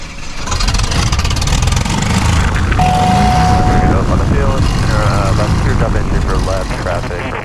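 A 2013 Cessna T182T Turbo Skylane taxiing, its propeller engine a loud, steady drone in the cabin, with a voice talking over it throughout.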